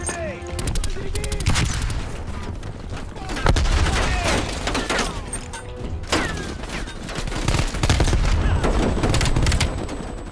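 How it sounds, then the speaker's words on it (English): Dense gunfire with heavy explosive bursts in a Call of Duty Black Ops Cold War battle, loud and continuous sharp volleys and booms repeating throughout, with voices talking over the combat. "Incoming grenade!"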